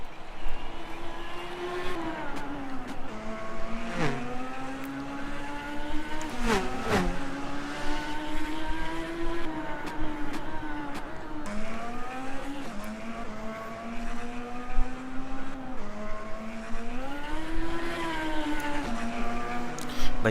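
Race car engines in a Second Life race scroll through a steady, loud roar for about 20 seconds, with rising and falling pitch sweeps as several cars accelerate, shift and close the gap, and no voices.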